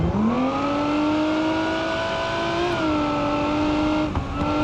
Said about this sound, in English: can hear that supercharger right behind your head